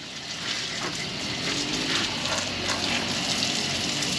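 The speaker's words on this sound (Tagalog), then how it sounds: "Binabanlawan na po ni Aya." Water rinsing a motorcycle engine, a steady, close, hissing gush of spray that runs without a break.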